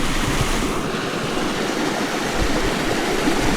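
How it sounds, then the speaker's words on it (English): Steady broadband rush of falling water from two waterfalls, one tiny and one big, on off-grid rural land in California; a continuous, fairly loud roar with no breaks and no voices. "There's both waterfalls for you. Little tiny one and a big one."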